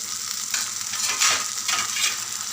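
Chopped tomatoes sizzle in hot oil with frying onions for an egg curry, stirred with a spoon; a continuous crackling hiss swelling with each scrape and stir, close up, with no talking.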